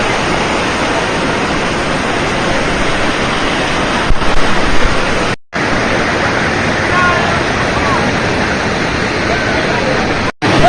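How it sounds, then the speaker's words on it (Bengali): Mayabi waterfall at Jaflong in Sylhet, on the Indian border, roaring as a loud, constant close-up rush of falling water that fills the scene. "আপনাদের মায়াবী ঝর্ণা দেখালাম, পুরোটাই ভারতীয় অংশ।"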